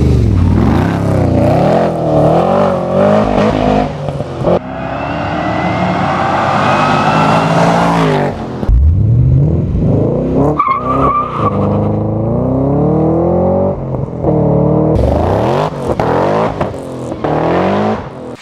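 A powerful supercharged Chevrolet LSA V8 car revs and accelerates hard, engine pitch climbing and falling through gear changes, with tire squeal, loud and close.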